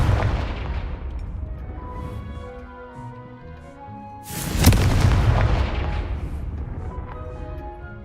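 In Hogwarts Legacy, the Confringo blasting spell explodes twice. A deep boom rolls out and decays, and a sharper, louder blast follows midway, with a long rumbling tail and no talking.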